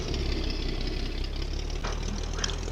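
Engine of an old, heavily loaded grain-hauling truck in the farming video game Farming Simulator 25, a low steady knocking rumble, moderately quiet and unbroken, with no one talking.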